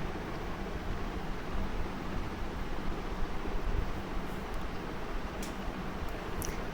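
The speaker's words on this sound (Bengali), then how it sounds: "চিংড়ি মাছের বড়া তো দিতে না দিতেই কেমন লাল হয়ে উঠতেছে, দেখতেই পাচ্ছেন।" Prawn fritters (chingri macher bora) sizzle in hot oil with a dense, even hiss that stays loud and continuous throughout, with no voices.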